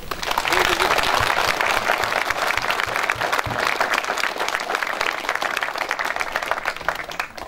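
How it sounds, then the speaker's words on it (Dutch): Big round of crowd applause for volunteers and artists at an outdoor sculpture and heritage garden opening, dense and loud from the start, easing slightly over several seconds, with faint voices in the mix. "via jou wil ik graag een heel groot applaus voor alle vrijwilligers en kunstenaars"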